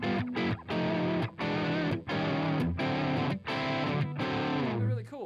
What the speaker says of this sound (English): to kick it off, they basically sound like this